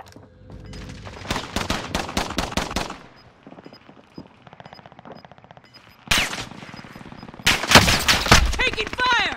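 Call of Duty: Modern Warfare firefight: rapid machine-gun bursts in loud strings, a quieter lull with distant popping, then heavy renewed volleys near the end, with game voice lines between.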